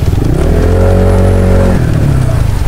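Yamaha NMax v1 scooter fitted with a JBT clutch revving close by, the engine note climbing and holding briefly before dropping back, loud and alone.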